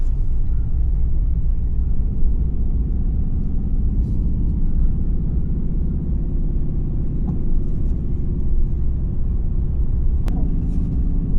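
A 630-horsepower Mercedes-AMG GT S drives through snow in blizzard conditions, its engine and tires producing a loud, continuous low rumble that holds steady, broken by a brief sharp click near the end.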